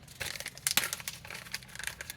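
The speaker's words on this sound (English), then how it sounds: "You buy your parts and you get them in a little plastic bag" A small plastic bag of electronic parts crinkles and rustles up close in irregular bursts of handling, with a few sharper crackles, and no talk.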